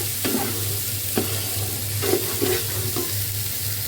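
Spice paste of chili powder and onion paste sautéed in a pan for chicken roast, with a spoon scraping and stirring in about five separate strokes over a low, steady hum and faint sizzle.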